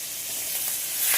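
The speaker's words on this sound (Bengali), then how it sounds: "তাহলে মাছগুলো ভাজা হোক আস্তে আস্তে।" Fish fries slowly in hot oil, giving a steady, close bright hiss that swells slightly toward the end.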